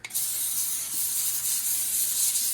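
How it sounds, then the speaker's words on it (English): A steady, close hiss of cooking spray from an aerosol can onto aluminum foil on a sheet pan, starting abruptly and continuing evenly for a couple of seconds. "Put aluminum foil, give it a little spray"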